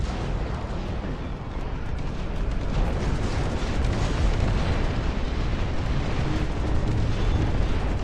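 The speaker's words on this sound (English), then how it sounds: "The big bombs." Big bomb explosions in the real-time strategy game Dust Front RTS, a dense, continuous roar of loud booming blasts and rumbling artillery that fills the whole stretch without a break.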